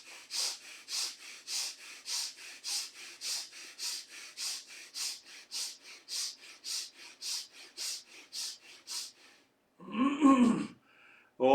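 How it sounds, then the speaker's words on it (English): Rapid, short nasal breaths drawn in through both nostrils into the chest during a mindfulness breathing exercise, a steady rhythmic series of about twenty close, even puffs followed by a brief pause and a louder rustle. "Quick and short breath from both the nostrils into the chest."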